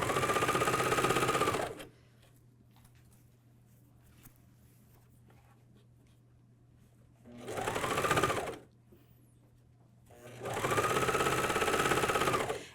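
A MyLock 454D serger sewing a pajama top runs in three loud, close bursts of rapid rattling stitching, separated by quieter stretches of faint hum.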